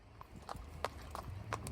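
Horse hooves of a carriage horse clip-clop on Vienna's streets, a steady rhythm of sharp, fairly close hoof strikes over a low street murmur.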